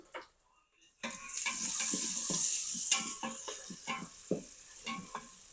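Dal curry ingredients frying in an Instant Pot, a steady sizzle rising after a brief quiet start, with clinks and scrapes of stirring throughout.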